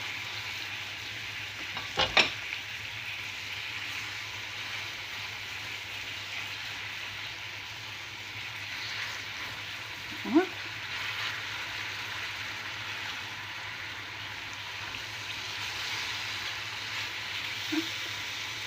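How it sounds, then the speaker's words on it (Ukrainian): Banana halves sizzle in caramelized sugar in a pan with a steady hiss of frying, broken by a few brief clinks and scrapes of a utensil. "На сковорідку ми вкладаємо половинки чищених бананів."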